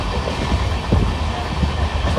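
Inside the general coach of an Amrit Bharat Express train in motion, a loud, steady rumble of wheels on track fills the interior with faint rhythmic clacks.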